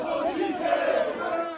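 Football fans greet a Colombian player arriving at the airport with loud, close crowd shouting and chanting, a sustained roar of many voices over a short burst.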